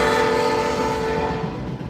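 A passing train blares its horn in a loud, steady, sustained tone over a low rumble of rolling wheels, fading slightly toward the end, with no talking.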